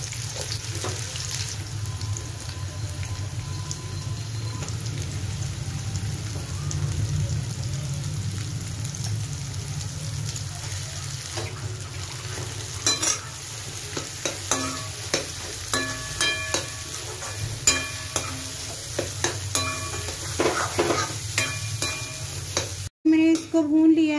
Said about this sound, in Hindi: अभी मैं मटर को भूनूंगी, तो इसलिए मैं अभी सिर्फ प्याज डाल रही हूँ